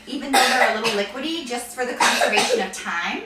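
Several harsh coughs burst out during a home cooking session for carrot coconut nests, loud and close, mixed in with someone talking.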